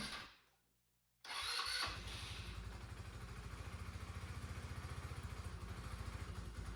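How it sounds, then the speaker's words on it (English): A 2014 Tao Tao 150cc GY6 scooter engine cranks briefly, catches, and settles into a steady, rapid, close putter that runs evenly to the end. "Do you think this scooter will start?"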